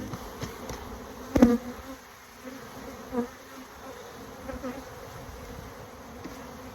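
Honey bees buzz close by while a hive is opened for inspection, a continuous humming drone with a few louder passes as individual bees fly near.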